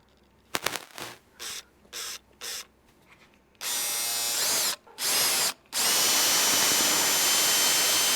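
A power drill with a 1/4 inch bit bores a ballast hole in a Mastercraft Maristar boat: several short trigger bursts at first, then longer sustained close, loud whirring runs that end in a continuous drilling drone.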